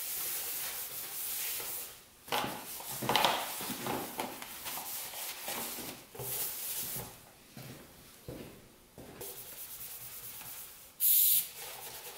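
Paint stripper is sprayed onto a fender of an old, rough three-wheeler, giving several hissing bursts and scrubbing, rubbing noises up close, with a sharp short spurt near the end.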